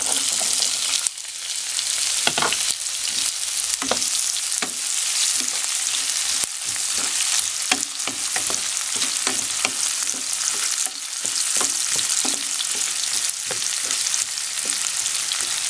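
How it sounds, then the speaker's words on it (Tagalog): Chopped onion frying in a hot pan for a chicken tomato dish, a steady loud sizzle with crackling pops and occasional stirring scrapes throughout, no talking. "Hintayin lang natin medyo maluto yung onion before natin ilagay yung tomato."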